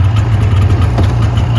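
A 2002 Polaris Super Sport 550 fan-cooled snowmobile engine idles close by, with a loud, steady low rumble and a fast even pulsing throughout.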